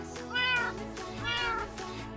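A cat in Minecraft meows twice in a row, each call a clear rising-falling mew at moderate volume, with a quieter third sound trailing off at the end.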